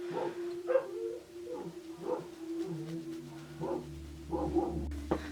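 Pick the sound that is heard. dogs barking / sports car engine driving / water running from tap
dogs barking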